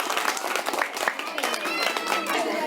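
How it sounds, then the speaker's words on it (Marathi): Students at a village primary school clap together in a brief burst of applause during a National Voters' Day program, fairly close, with voices and chatter mixed in. "एकदा जोरदार टाळ्या वाजून स्वागत करा"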